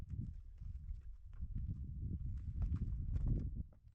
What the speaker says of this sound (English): we've got some donkeys trying to come in now